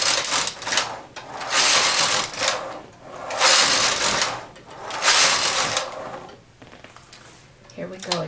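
A knitting machine with a ribber attached knits rows with long rhythmic whooshing carriage passes, back and forth several times, loud and close, while a person talks between passes.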